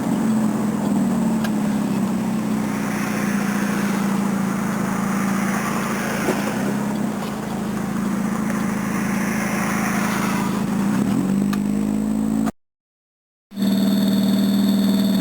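An NSU car's engine runs steadily while driving, a loud buzzing drone with shifting tones, broken by a brief silent gap before the same engine sound resumes.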